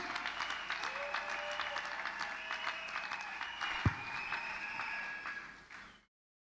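Congregation applauding at a church wedding ceremony as a pastor steps up for the blessing, sustained even clapping with a single sharp thump partway through before fading out.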